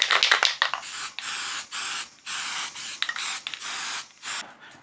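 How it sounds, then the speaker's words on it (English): Short repeated hissing bursts from an aerosol can of Quick Grip contact adhesive, several quick puffs then longer sprays, close and fairly loud with brief pauses between. "I'll spray this with some quick grip"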